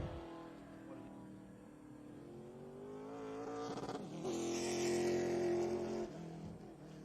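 A race car lapping Oxford Plains during qualifying for the PASS Memorial Day Clash, its engine a loud, steady near drone that swells and climbs in pitch midway, then holds a strong sustained note.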